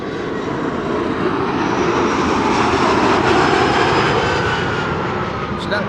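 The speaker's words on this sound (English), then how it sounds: "The Chinese triple that just now landed on 36 right is approaching the parking" A Boeing 777 airliner taxis toward parking at Amsterdam Schiphol Airport after landing on runway 36 right. Its engines give a loud, steady roar that holds evenly throughout without breaks.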